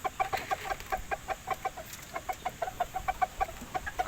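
Several chickens cluck in quick, repeated bursts close by, a busy rhythmic chorus of short clucks over a faint background hum, with no talk.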